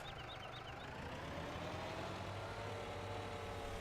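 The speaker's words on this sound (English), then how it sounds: "This tractor is just going crazy." Tractor engine in Farming Simulator 17, running with no weight on the back, gives a steady, loud mechanical drone throughout, with a continuous low rumble and a few faint high chirps near the start.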